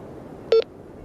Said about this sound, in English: That's the signal reminder right there